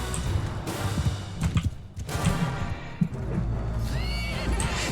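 Horses in the medieval battle game Mount & Blade 2, with neighing and whinnying over a dense rumble of battle noise, hoofbeats and clashes, loud and continuous with a few sharp hits.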